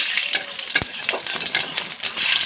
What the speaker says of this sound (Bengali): এখন আর একটু তেল দিয়েছি, দিয়ে এখন জিরে দিয়ে দেবো। জিরেটা একটু ভাজা করে নেব।